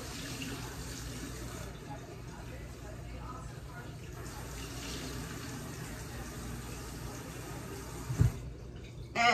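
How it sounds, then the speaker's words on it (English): Brussels sprouts are rinsed under a running kitchen tap, a steady wash of water splashing into the sink throughout, with a brief clatter near the end. "so I'm gonna rinse my Brussels sprouts."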